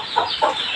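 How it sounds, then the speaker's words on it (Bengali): Native chickens kept with their chicks cluck close by, giving two short clucks in under a second with no talk. "আর ওই পাশে হচ্ছে আমার 10টা বাচ্চালা দেশি মুরগি"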